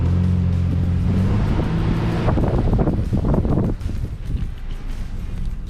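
Nissan Frontier on Goodyear Wrangler DuraTrac tires driving off-road, a loud rumbling engine and tire roar mixed with heavy wind buffeting across the microphone, with the noise easing slightly near the end.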